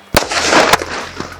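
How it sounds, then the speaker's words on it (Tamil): Diwali firecrackers from a Sivakasi family box burst close and loud, with two sharp bangs followed by a crackling rumble and a smaller pop at the end. "தெறிக்க விடுது ஒவ்வொரு பட்டாசும்."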